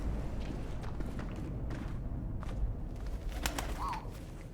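A bird in the 11-11 Memories Retold video game gives a short cooing call near the end, over a busy background of rustling noise and scattered clicks.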